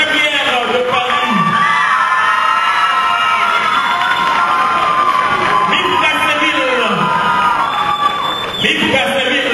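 An audience at the Miss Haiti International 2011 beauty pageant in France cheers and whoops loudly and continuously, with shouting voices rising over the din.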